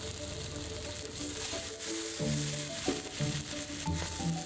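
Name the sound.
oysters pan-frying and sizzling in a pan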